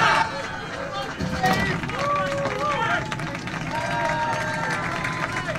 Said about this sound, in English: let's get a round of applause for Queen Maeve